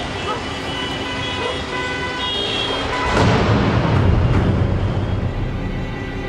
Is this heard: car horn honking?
yes